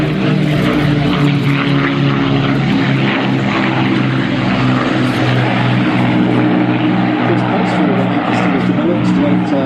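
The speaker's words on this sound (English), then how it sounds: "takeoff with the 4 engines at full bore" An Avro Lancaster bomber takes off at Duxford with all four propeller engines at full power, a loud, continuous, throbbing drone that stays close and steady throughout.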